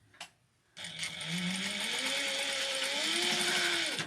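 A sewing machine stitching an apron, a short burst, a brief pause, then a sustained whirring run with rising and shifting motor tone and rapid rhythmic needle clatter, close up.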